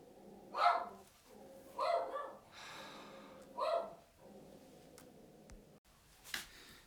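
A small dog barks indoors in three separate loud bursts spaced about a second apart, with snorting breaths between them and a faint thump near the end; no one talks.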